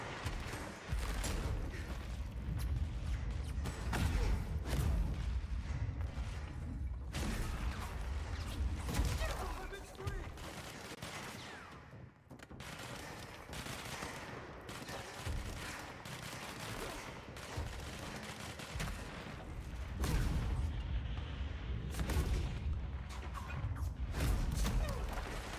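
Sniper gunfire in the video game Control: dense, continuous bursts of shots, impacts and crashes throughout, loud and busy, with a player talking over the din.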